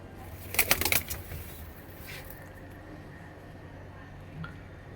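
Madrasi pigeons kept for sale give one brief, close burst of wing flapping near the start, then the scene settles into quiet background rustle.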